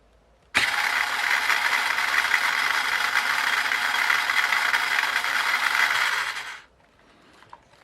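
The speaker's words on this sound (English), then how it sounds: "So, motor's running." Small electric motor of an RC FastLane Jeep Cherokee on a 2S LiPo spins up abruptly, holding a steady loud whirring drone with a slight rattle for about six seconds, then cuts off, leaving faint background noise.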